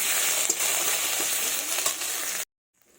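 A fish curry base with salt and turmeric sautés in a pan, a loud, dense, steady sizzle with a few stirring scrapes that cuts off abruptly into silence after about two and a half seconds.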